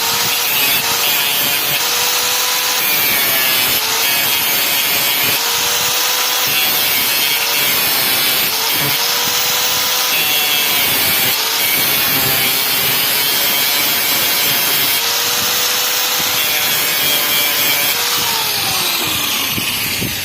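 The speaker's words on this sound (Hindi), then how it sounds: "दूसरा एक ग्राइंडर की मदद से भी निकल सकता है।" A grinder works on a table fan to remove its bushings, giving a loud, continuous harsh grinding and rasping drone with rhythmic scraping pulses, close and steady throughout with no speech.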